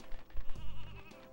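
Sheep bleat in a video game livestock-herding task, several short wavering bleats over a busy game background, fairly close and moderately loud.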